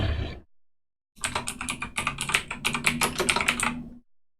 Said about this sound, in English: then we're going to type in our main heading.